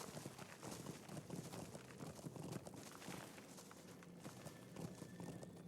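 Horse hooves clip-clop steadily in the online game The Lord of the Rings Online, a quiet continuous rhythm of hoofbeats under a dense wash of ambient noise.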